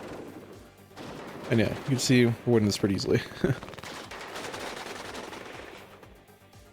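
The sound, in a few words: rifle gunfire in video game WARNO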